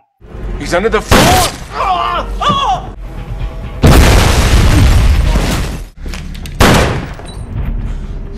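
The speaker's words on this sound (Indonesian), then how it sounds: "ia meledakkan rumah dengan merusak pipa gas di dalamnya" A house blowing up from a broken gas pipe in the 2007 film Shooter: loud explosive booms and shattering bursts, with gunfire-like cracks and debris, interspersed with brief voices and music between the blasts.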